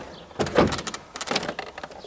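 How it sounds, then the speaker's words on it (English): A door panel on a Chevrolet Silverado is lifted off during a tow mirror install, giving a short burst of nearby plastic scraping and clunking as the clips let go. "So that's all you have to do is just lift straight up on the door panel."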